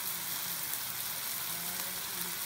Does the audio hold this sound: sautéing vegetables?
yes